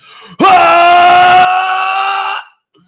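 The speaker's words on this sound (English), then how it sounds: "scream like you're on Dragon Ball Z" A person on a livestream lets out one loud, sustained scream lasting about two seconds, starting abruptly and tailing off, very close and dominant with nothing else audible.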